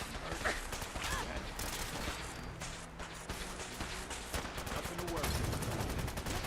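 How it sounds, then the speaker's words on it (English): Enemies firing guns in Fallout 4, a dense rattle of rapid gunshots and mechanical clatter that continues throughout at moderate loudness, with combat noise layered over it. "Where is this jackass shooting me from? They're all shooting at me."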